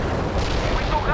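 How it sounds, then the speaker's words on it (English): Cluster bomb blasts from the World in Conflict war game, a dense rumbling barrage of booms with low, continuous roar filling a short burst. "Cluster bomb hit right on."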